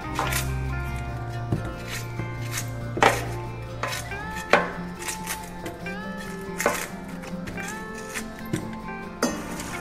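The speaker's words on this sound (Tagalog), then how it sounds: "Hiwa na tayo ng sibuyas, bawang." Knife chopping onion and garlic on a cutting board, a steady series of close, crisp cuts with occasional louder strikes and a low background hum.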